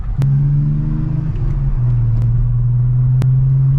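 A BMW 325i E92 with a stainless half exhaust line holds a steady droning hum around 2500 to 3000 rpm inside the car, loud and constant with a slight pitch shift midway, no talking.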